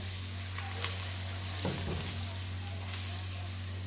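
Chicken adobo with quail eggs sizzles steadily in a pan while a spoon stirs it, giving soft scraping and clinking against a constant low hum, with no talking.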